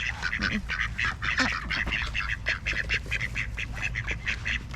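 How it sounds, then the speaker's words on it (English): A flock of mallard ducks quacks in rapid, overlapping bursts close by, a busy repeated chatter that runs throughout with no voices, in a swampy yard where chickens are also kept. "Alright, mallards, y'all gotta go."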